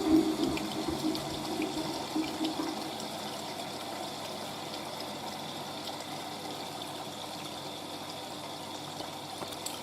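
Water rushes and splashes steadily inside a 1986 Hotpoint 9530 washing machine during its final rinse, starting a bit louder and settling into a continuous low churning flow.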